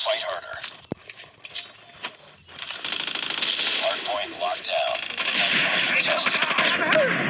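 A game explosion bursts out with heavy rumbling, then sustained crackling gunfire and blasts fill the rest, loud and dense, with a voice briefly underneath.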